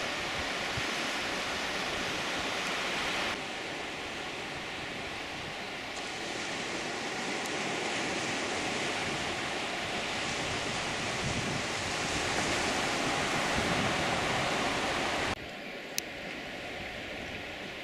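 Sea surf rolling onto the shore below the Vaches Noires chalk cliffs between Villers-sur-Mer and Houlgate as the tide rises, a continuous broad roar with wind buffeting the microphone, steady and loud, no speech.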